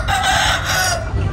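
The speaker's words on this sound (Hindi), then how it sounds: "हाँ बटेर के बच्चे, तितर के नहीं।" Quail chicks kept indoors in a house, calling in a dense, continuous chatter of high peeping that is loud and close for a brief moment.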